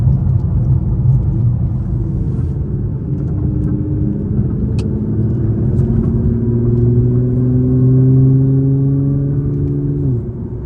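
A tuned Nissan GT-R with a VR38 engine accelerates hard, its loud engine note climbing steadily through several gears with brief dips at the quick shifts, close and continuous over road rumble.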